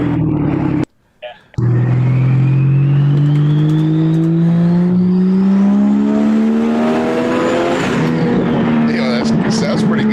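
A GM Vortec 4200 inline-six engine revs close by, climbing steadily in a long rising pull after a brief cut near the start, loud and raspy throughout.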